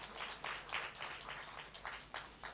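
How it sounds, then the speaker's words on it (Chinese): Clapping from a church congregation during a sermon, a brief, fairly faint patter of applause with no speech over it. "如果你们相信，就热烈的鼓掌，把所有的荣耀归于神。"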